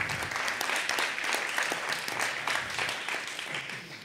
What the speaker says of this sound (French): une bonne main d'applaudissement pour ces dames